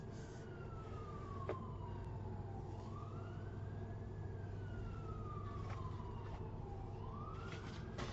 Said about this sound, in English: there's sirens and everything going, so I apologize for that in the background